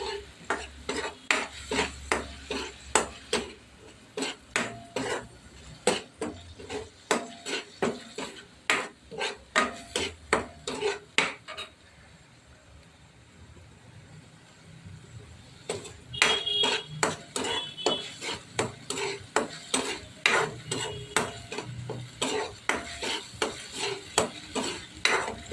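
Green masala is sautéed in a pan for udid dal ghute, rhythmic metal spoon strokes scraping and clinking against the pan over a faint sizzle, close by, with a short quieter pause midway.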